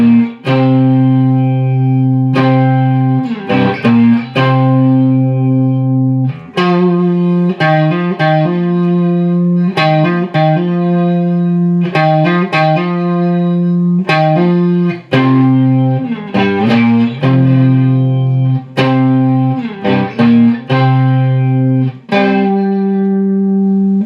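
Electric guitar with an effected, slightly distorted tone plays the chord change and turnaround of a song, strumming loud rhythmic chord stabs with short gaps between them and no one talking over it.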